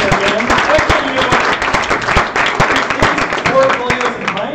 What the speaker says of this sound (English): Big round of applause for Jens